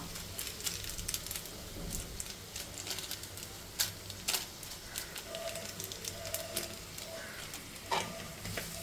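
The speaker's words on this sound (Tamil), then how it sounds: "நல்லா ஃப்ரை பண்ணிக்கோங்க." Vegetables for noodles fry in a pan with a soft, constant sizzle and scattered sharp clicks and scrapes of a utensil, fairly quiet and close, with no talking.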